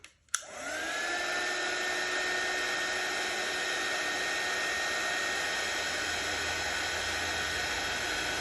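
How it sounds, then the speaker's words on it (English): A heat gun switched on with a click, then blowing a steady, loud whooshing hiss with a faint high whine while drying paint on a rainbow lion painting. "So I'm gonna use my heat gun again."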